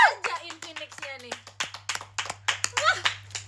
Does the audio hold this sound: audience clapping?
yes